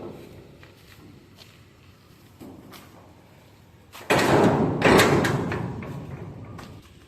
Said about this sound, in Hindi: पहले दरवाज़ा बंद करते हैं हम